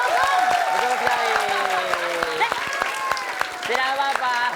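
An audience claps through a lively studio moment, with a rapid patter of handclaps running beneath voices that talk and exclaim over it.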